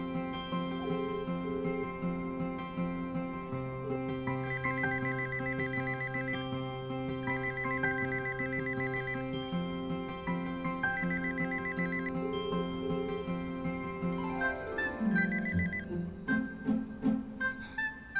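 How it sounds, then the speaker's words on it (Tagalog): A telephone ringing after a call is dialed, heard as repeated bursts of a bright electronic ring over a steady tonal backdrop with music-like layers, fairly loud and without talk. "Ako na nag-dial, nag-ring na yan."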